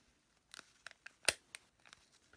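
An XP MI-6 pinpointer's rotating holster is turned through its positions, making a series of sharp, quiet plastic clicks at an uneven pace, with one louder snap in the middle and no talk.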